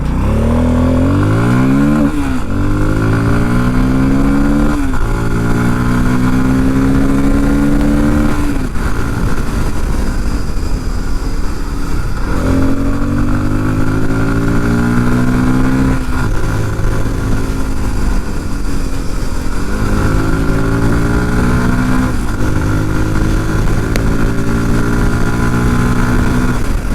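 A Bajaj Pulsar 250 motorcycle revs hard in first gear and climbs in pitch repeatedly, each surge rising then dropping, loud and close with steady wind and road noise throughout.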